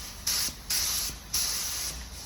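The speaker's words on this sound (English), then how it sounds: "Put your spray gun on an angle and spray it down." A spray gun applies paint during a bumper repair, three short, loud bursts of hissing spray separated by brief quieter gaps, close to the listener with no talking.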